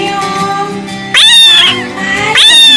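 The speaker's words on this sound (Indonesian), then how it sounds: "anak kucing itu mengeong-meong" A kitten meows loudly and close in two drawn-out, rising-falling cries over a soft musical background, used as a sound effect in a children's story.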